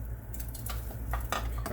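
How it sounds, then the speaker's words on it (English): Leftover stir-fry vegetables tipped into a simmering pot of ramen, giving a few soft clinks and scraping stirs over a steady low hum, with no one talking. "I'm gonna put those veggies in there as well."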